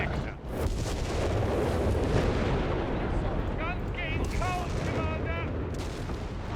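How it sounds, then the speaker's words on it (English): Bishop self-propelled artillery firing in Company of Heroes 3, a dense continuous roar of booming shots and explosions from a strategy game battle, with faint whistling tones near the end. "That is a lot of self-propelled artillery."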